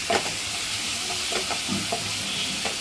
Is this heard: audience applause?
no